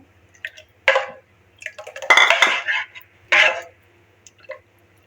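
A spoon stirs basil seeds into cold milk, making scattered clinks and scrapes against the container with soft liquid swishes in between. The bursts are close and irregular, with near-silence between them.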